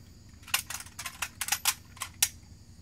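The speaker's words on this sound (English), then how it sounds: "It's an old cap gun I really like." An old toy cap gun with a little orange cork fires a quick series of sharp, close snapping pops at irregular intervals over a quiet room background.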